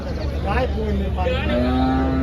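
Cattle moo loudly and close at a busy cow market in Chalisgaon where HF and Jersey cows are traded, with one long sustained low call and a few bellows over steady crowd murmur.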